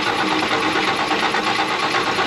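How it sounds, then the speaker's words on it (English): A 1968 GMC C4500 truck engine cranking with no fuel pump running: a steady, loud, churning whir with fast rhythmic pulsing that fills the whole short stretch. "Starting it with no fuel pump."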